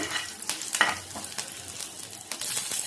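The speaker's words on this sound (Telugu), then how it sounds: "ఇలా కాస్త హీట్ అయిన తర్వాత కొన్ని కర్రీ లీవ్స్ యాడ్ చేద్దామండి. ఇది మంచిగా ఫ్రై చేసుకున్నాము." Curry leaves sputter and crackle in hot oil in a pan for an Egg 65 recipe, a close, busy frying sizzle with sharp pops and bursts throughout, no talking.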